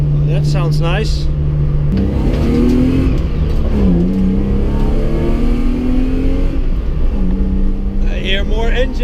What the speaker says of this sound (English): I hear more engine than I hear exhaust. It has a dark rumble with it